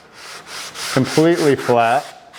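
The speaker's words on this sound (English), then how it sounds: "So for any flat sanding, Grip came out with these new blocks" Wood for a custom guitar build is sanded flat with a Grit-Grip sanding block. A few close, raspy rubbing strokes are followed by a louder, tonal scraping passage.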